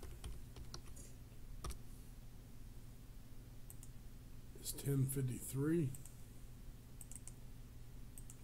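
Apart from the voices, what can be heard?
typing on a computer keyboard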